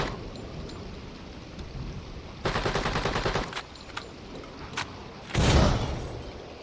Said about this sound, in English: Okay, large explosion there.